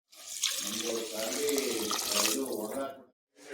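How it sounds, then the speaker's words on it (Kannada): Water runs in a steady, fairly loud stream into a pressure cooker holding rice for pulao. The pour lasts about three seconds, then stops abruptly, with a brief restart at the very end. "ನೀರು ಹಾಕಿ ಇಡ್ತೀನಿ"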